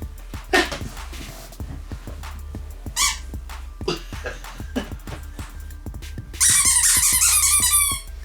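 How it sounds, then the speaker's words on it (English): A squeaky dog toy is squeezed repeatedly in scattered, irregular squeaks, then gives a longer, louder run of rapid squeaks near the end, close by, over a steady low background hum. "What the hell is that squeaky shit? Is that like a dog toy?"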